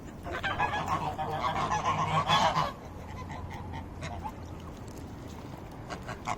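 Waterfowl at a lake calling in a dense chorus of loud, overlapping honks and quacks for about two seconds, then dropping to scattered calls over softer background noise.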